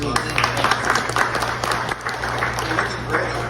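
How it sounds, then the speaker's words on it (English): Guests at a restaurant's 33rd anniversary event applauding, a short stretch of moderately loud clapping mixed with chatter and a steady low hum underneath. "Round of applause."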